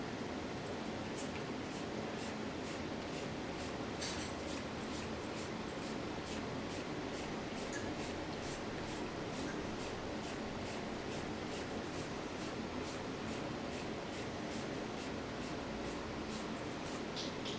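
Spray gun laying down a thick second coat of coating: a continuous, steady hiss throughout with faint regular clicking on top, no talk.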